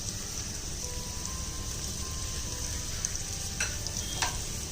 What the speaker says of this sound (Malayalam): ഇതിലേക്ക് നമുക്ക് അരിഞ്ഞു വെച്ചിരിക്കുന്ന സവോളയും കൂടെ ചേർത്ത് കൊടുക്കാം. സവാള നന്നായിട്ട് വഴണ്ട് വരണം.